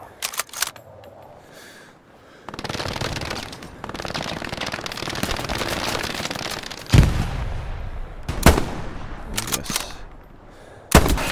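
Gunfire in the Hell Let Loose video game on the Eastern Front: several loud, sharp rifle shots crack out separately, some in quick doubles, between stretches of sustained rumbling battle noise.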